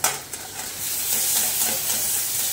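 Bottle gourd peel fries and is stirred in a pan as its released water cooks off, giving a steady, close broadband sizzle and hiss with faint stirring scrapes throughout.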